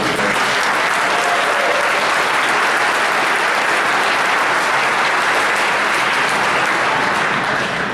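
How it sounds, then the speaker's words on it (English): A large crowd at a ballpark claps loudly and continuously to welcome home baseball player Ben Zobrist at a Pack the Park event in Eureka, a thick, unbroken wash of applause with no break. "So another round of applause."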